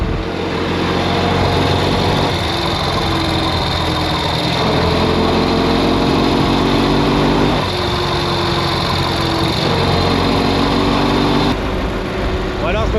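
An Ural motorcycle engine runs loud and close, revving up and easing back in repeated waves while someone talks over it.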